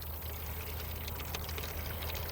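Water and tomato pulp pour out of a seed-saving container in a steady, continuous splashing stream, close and moderately loud with no talk.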